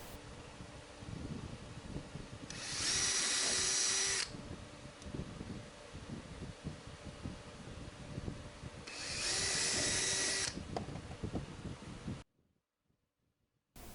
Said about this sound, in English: Pre-drill pilot holes in the top of the hub panels.